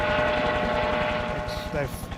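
Police helicopter flying overhead during a nighttime search on the Isle of Mull, a steady rhythmic rotor chop throbbing throughout at moderate distance, with faint background noises layered over it.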